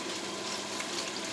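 Yogurt sizzling and frying in a pot while cooking beef paya, a steady soft crackle and hiss with no talk over it.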